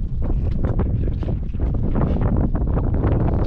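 Strong wind roars steadily across the microphone at sea, a loud, constant buffeting rumble with a faint hint of water and boat motion beneath.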